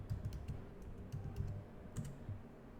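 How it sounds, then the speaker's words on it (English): Keys tapped on a computer keyboard while a password is typed in, a quick irregular run of soft close clicks with brief pauses and no voices. "We type the password."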